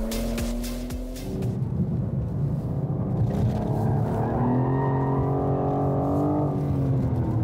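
Tuned BMW M4 G82 with AC Schnitzer upgrades lapping a race track, its engine note loud and close, rising steadily through the revs with a brief tyre squeal near the start.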